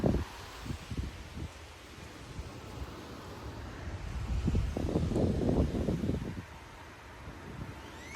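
Strong 40 mph wind gusts tear through trees in Frisco, Texas, during a severe weather outbreak, a broad rushing roar that swells and fades with rustling leaves and wind buffeting the microphone, loudest midway.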